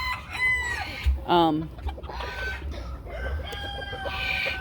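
Silkie and Polish chickens clucking close by, with a rooster's crow cutting in early and repeated squawks and clucks over a dull rainy background.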